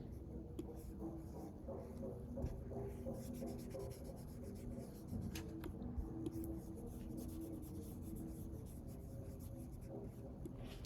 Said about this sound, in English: But let me erase something first.